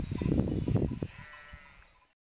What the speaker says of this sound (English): there's some sheep. I hope the sheep don't come over here.